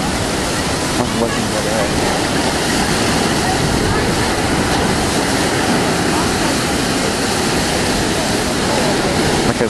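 Rough sea at very high tide in Brighton, a continuous loud roar of crashing, churning surf close by with gusting wind, under brief talk.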